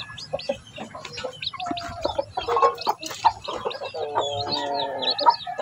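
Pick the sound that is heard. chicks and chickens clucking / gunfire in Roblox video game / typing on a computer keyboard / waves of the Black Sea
chicks and chickens clucking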